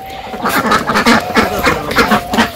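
A village duck quacks close by in a quick run of repeated calls with a steady, bouncy rhythm.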